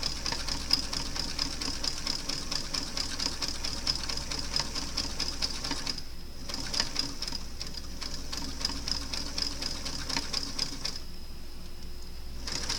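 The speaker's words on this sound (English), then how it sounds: "I don't know if the sound of the sewing machine will drown my voice out." A sewing machine stitches steadily with a fast, even mechanical whir and rapid needle clatter, pausing briefly twice before running on.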